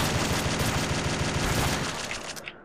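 Jackhammer automatic shotgun loaded with fire bullets blasting away in the top-down shooter Crimsonland, a dense, continuous rapid volley of loud gunfire that thins out near the end.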